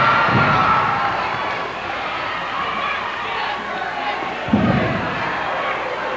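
Wrestling crowd cheering on a wrestler during a tag team match, a steady arena roar with occasional ring thuds and a commentator talking over it.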